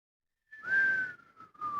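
A voice whistles in imitation of a dying otter-like creature's cry, a single sustained, slightly falling whistle held for about a second, then a brief second whistle, soft and close with no talk.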